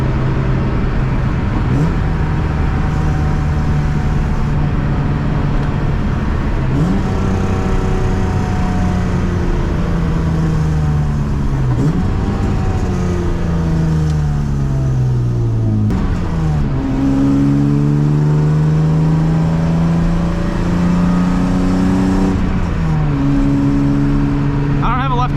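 A BMW E36 heard from inside while driving, its engine droning steadily with repeated rises in revs and drops at gear changes across the whole run, with a voice talking at times.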